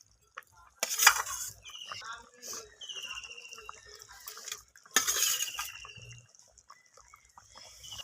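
Fried rohu fish pieces go into a pan of simmering rohu curry made with capsicum, mustard and poppy seed, giving two close splashy bursts with utensil clinks and soft bubbling between them.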